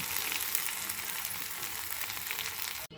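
Cooked, browned chicken in a pan with water and potatoes just added gives a loud, steady sizzle and bubbling that continues evenly before cutting off abruptly; no voices.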